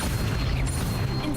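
An Incendio fire spell cast in Hogwarts Legacy, a deep booming burst of flame with a dense low rumble, loud and close, lasting through the short moment.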